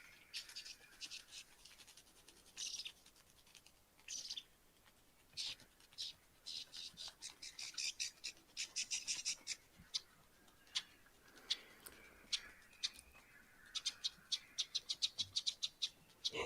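A male lyrebird mimics a mobbing flock of birds, producing dense, rapid bursts of sharp chattering and scolding calls that grow busier and more insistent, heard fairly close amid faint background hiss.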